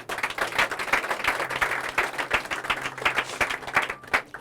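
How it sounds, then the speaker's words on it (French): A church congregation claps and cheers for Jesus, dense sustained applause with a few louder individual claps, continuous and fairly close throughout. "Est-ce que tu peux acclamer Jésus?"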